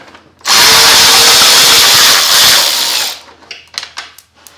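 A power drill backing screws out of the front grill of a Lifan KPR 200 motorcycle whirs loudly and steadily for about two and a half seconds, then stops and is followed by a few faint handling clicks.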